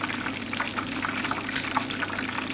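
Battered king prawn balls deep frying in hot oil, a steady dense sizzle with continuous bubbling crackle close up, no voices over it.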